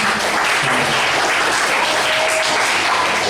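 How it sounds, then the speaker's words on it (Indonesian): Seventh-grade classroom of students applauding together, a dense, steady wash of clapping that stays loud and continuous throughout with no talk over it. "Tepuk tangan semuanya"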